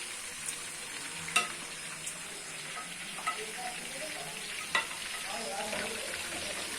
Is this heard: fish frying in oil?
yes